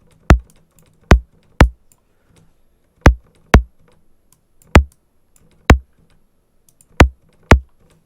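Synthesized high click drum sound, a series of sharp isolated clicks in an uneven rhythm, each short and crisp with a slight low thump underneath, heard alone.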